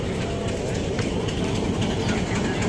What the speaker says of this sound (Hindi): Pakistan express Wazirabad railway station पर पहुंच गई है।